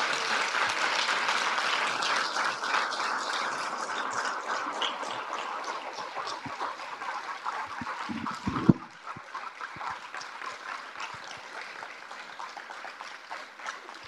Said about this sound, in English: Wow, so much applause already at the beginning